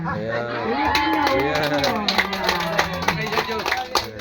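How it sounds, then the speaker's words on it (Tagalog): Crowd at a Friday church meeting applauding the overall chairman: cheering voices and chatter carry on, joined later by distinct, irregular claps that grow more prominent toward the end. "Para po yung palakpak na yan ay para kay overall chairman"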